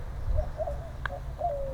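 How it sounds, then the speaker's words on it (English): Mourning doves cooing on a walk near bamboo in Bacalar, Mexico, a few soft low coos at moderate distance over steady outdoor ambience. "So what's characteristic here, you hear these mourning doves."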